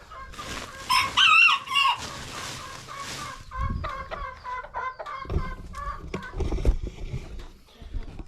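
A rooster crows loudly and close by in a homestead chicken area, one long crow followed by a stretch of clucking and scratching movement.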